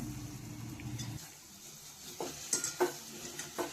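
Bitter gourd dropped into hot oil and spices in a pan, with a brief low rumble of frying, then a quieter sizzle punctuated by a few sharp utensil clinks and stirring taps, close and without talk.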